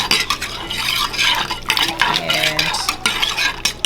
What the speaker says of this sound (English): Give it a good little stir.